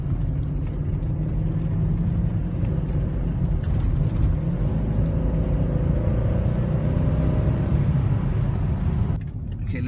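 A 2007 BMW X5 4.8 V8 on the road, with a steady low engine and road rumble heard from inside the cabin that continues for the whole stretch.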